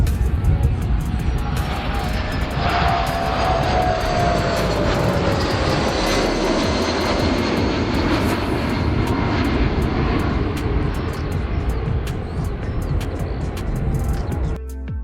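A low-flying water-scooping firefighting airplane roars overhead, its engine drone loud and sustained, shifting in pitch as it passes, with faint background voices.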